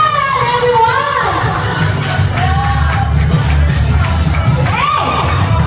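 Birthday party crowd at an 18th birthday celebration in a restaurant, loud and continuous with excited cheering, shouting and children's voices over a thumping background, applause blended into the din.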